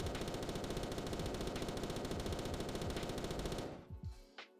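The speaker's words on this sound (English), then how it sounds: "a 100 round drum magazine that fits only in the Patriot. The gun takes no attachments, and it's got a jacked up fire rate and a lot of recoil." Rapid automatic fire from a Patriot rifle with a 100-round drum in Roblox Apocalypse Rising 2, a dense unbroken burst of loud shots for several seconds that cuts off, leaving a few scattered echoing shots.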